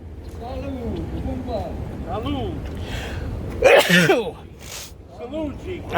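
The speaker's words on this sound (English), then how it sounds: "I got to sneeze, guys." One loud sneeze bursts out in the middle of a casual conversation, with other people talking before and after it.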